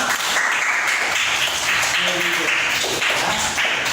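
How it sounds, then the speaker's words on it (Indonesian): A classroom full of people claps steadily and loudly for the full few seconds, with a voice faintly audible underneath. "Tepuk tangan dulu untuk semuanya."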